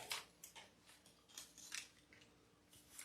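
Scissors trim a floral pick for a spring floral bike wheel wreath, giving a string of crisp, close snips spaced irregularly over a few seconds with no talking.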